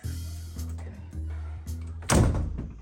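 A door is closed and locked: a firm thunk followed by a rattle of the latch, preceded by a low rhythmic hum and light knocks, with no speech.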